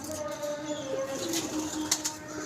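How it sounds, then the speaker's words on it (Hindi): Pigeons roost in wall niches and coo in soft, repeated low calls over a light background murmur, with a few sharper chirps near the end. "इधर भी देखें वो नुकरों में लगे हुए हैं कबूतर।"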